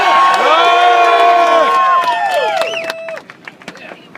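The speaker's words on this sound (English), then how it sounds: "Now, a show of hands and maybe applause." Crowd at a Justice for Kelly protest cheering and whooping loudly, with clapping and shouts sustained for about two seconds before the roar tapers into scattered claps and a few calls.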